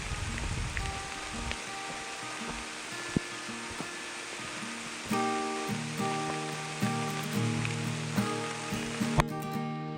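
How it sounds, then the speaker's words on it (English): Heavy rain pours through a forest during a backcountry hike, a dense steady hiss that swells louder halfway through, with scattered drops and faint tonal background sounds layered underneath. "Even though it was pouring rain, it made the forest look that much more vibrant and beautiful."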